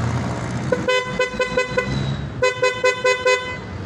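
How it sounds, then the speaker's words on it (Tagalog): Loud bright aftermarket PIAA electric horn on a Yamaha Fazzio scooter honking in short rapid bursts, two clusters of beeps separated by a brief pause, close up over a low rumble. "Nag-i-install na rin tayo dito ng MDL and Pia horn"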